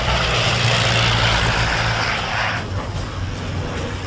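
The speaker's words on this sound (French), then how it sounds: "Trois Val partent en piqué pour bombarder les navires américains." Three Aichi D3A Val dive bombers diving on American ships near Guadalcanal, a loud, dense roar of propeller engines sustained throughout, easing slightly toward the end.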